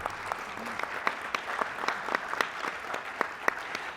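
Audience applause fills a city address hall, a steady wash of many hands clapping at moderate distance, with a few sharper individual claps standing out, and no talking over it.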